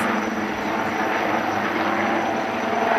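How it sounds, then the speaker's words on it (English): Dhruv military helicopters hover at an air show, making a continuous loud, steady rotor and engine roar that fills the whole stretch with no talk. "In perfect sync with the commandos, the helicopters maintain accurate hover and prepare for rapid extraction from the battlefield."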